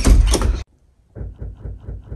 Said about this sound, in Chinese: 大半夜的，你敲门？